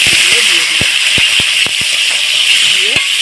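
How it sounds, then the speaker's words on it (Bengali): Cauliflower florets frying in hot oil in a pan give off a loud, steady hiss with scattered sharp pops and crackles, while a person talks over the sizzle. "এবারে আমি ফুলকপিগুলো সব শেষে ভেজে নেব"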